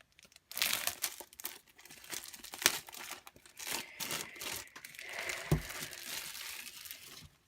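A plastic package of Paper Pumpkin craft supplies is ripped open up close, with loud crinkling, crackling tears in uneven bursts and a brief thump near the end.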